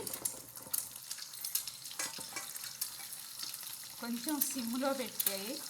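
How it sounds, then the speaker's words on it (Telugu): Eggs frying on a low flame in a pan for egg garlic chili masala; a soft continuous sizzle with scattered scraping clicks, and a voice speaking over it in the final seconds. "దీన్ని బాగా వేపుకోవాలండి"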